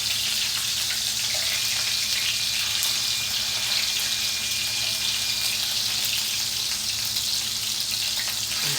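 Steak and pork bites fry in a hot pan while being flipped, giving a steady, loud, hissing sizzle that continues evenly throughout with no voices.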